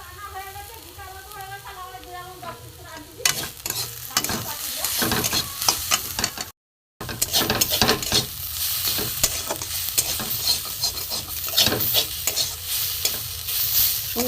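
Sliced bitter gourd sizzles in hot oil with turmeric, cumin and coriander powder, stirred repeatedly with a spatula that scrapes the pan in irregular strokes, the frying hiss steady and close with a brief cut midway.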